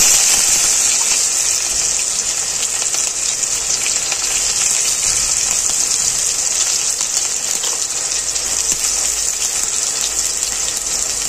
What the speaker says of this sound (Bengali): পেঁয়াজটাও ভেজে নিয়েছি হালকা করে